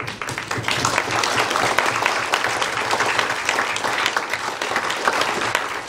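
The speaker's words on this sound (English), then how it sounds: "Please join me in a heartfelt round of applause in appreciation of Elizabeth Evans, MBE" An audience at a carers' rights awards event applauds Elizabeth Evans, MBE, with sustained, even clapping filling the room for several seconds.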